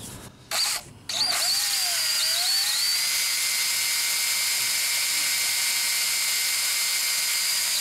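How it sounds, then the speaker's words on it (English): A power drill bores steadily into metal lubricated with cutting oil, a loud whining drone with a pitch that wavers and settles after a couple of brief stops at the start, then runs continuously. "And drill some more."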